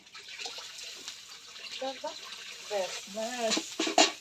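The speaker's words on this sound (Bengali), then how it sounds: "পরিমাণ মতো জল দেবো।" Water poured into a large cooking pot for a fish curry with mustard paste, heard as a splashing, gurgling flow that builds toward the end, close by, with a voice speaking over parts of it.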